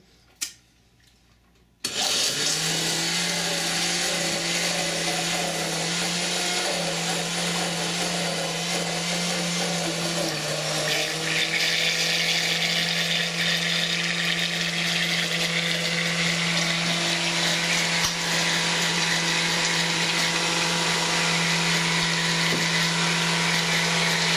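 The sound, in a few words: blender blending ice cream mixture with honey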